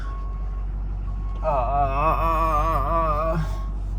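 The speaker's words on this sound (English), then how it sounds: "The beeper thing is beeping." A Ford 6.7 truck's warning beeper sounds a steady, wavering electronic tone for about two seconds over a low engine rumble, with the check engine light on.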